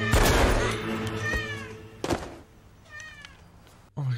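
A cat meows repeatedly in a scene from the 2000 film American Psycho, with several rising, drawn-out cries over loud background sound, a sharp bang in the middle, and voices throughout.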